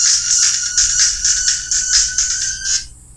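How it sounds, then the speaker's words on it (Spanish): Radio sound playing from an ordinary cell phone, thin and tinny with a pulsing, rhythmic pattern that is moderately loud, then cuts off abruptly near the end. "Este teléfono celular tiene radio,"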